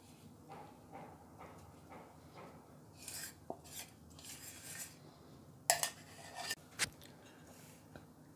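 Bajra flour dough being worked into a spiced hing and curry-leaf mixture for methi paratha, heard as quiet, scattered scrapes and clinks of a utensil against a pan, with a few sharper knocks near the end.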